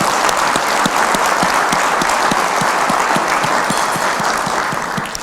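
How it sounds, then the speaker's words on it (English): An audience at a port's annual state-of-the-port event applauds maritime workers, loud sustained clapping from a large crowd filling the whole stretch and tapering slightly at the end. "let's all give a round of applause to the maritime workers"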